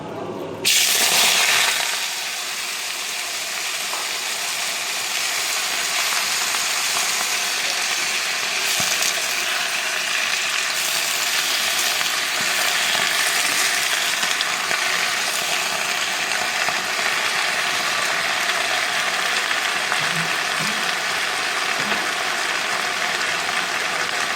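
Malabar spinach (pui shak) frying in a pan with a steady, loud sizzle and crackle that holds for about 24 seconds, with brief clatters near the start.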